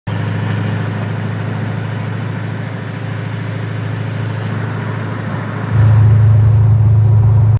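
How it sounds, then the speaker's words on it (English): A supercharged LT4 V8 in a 1970 Oldsmobile 442 restomod idles loud and close with a deep, steady exhaust rumble, then blips to a higher, louder drone before cutting off abruptly. "And now, let the exhaust speak for itself."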